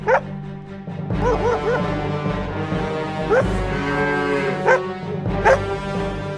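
Cattle low and moo repeatedly at close range, several drawn-out bellowing calls with rising and falling pitch overlapping a steady low rumble, with a few sharp barking-like bursts between them.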